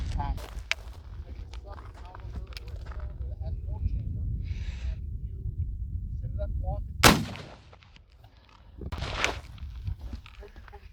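A Civil War Confederate carbine fires at a 150-yard target outdoors, one sharp loud report followed by a second blast-like burst, with faint low background noise and scattered sounds of movement around it.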